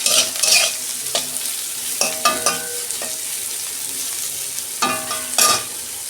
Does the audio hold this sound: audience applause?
no